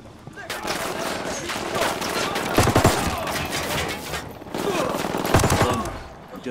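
Sustained rattling gunfire exchange in the video game Ghost Recon: Wildlands, with dense bursts and heavier thumping shots swelling twice, loud and close.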